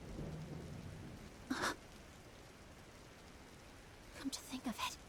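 Steady rainfall hisses in a storm scene in the video game Trails in the Sky, with a low rumble early on; brief vocal bursts break in twice over the rain.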